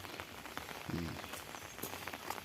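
Steady rain patters softly on a surface, a faint continuous hiss with scattered drops and a brief low hum in the background.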